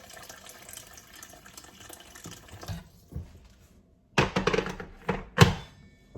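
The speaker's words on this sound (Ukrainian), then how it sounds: "У мене тут закипіла вода, я трошки добавлю." After a quiet stretch with a few soft knocks, freshly boiled water splashes and pours into a pot of leek soup in uneven bursts, close and fairly loud.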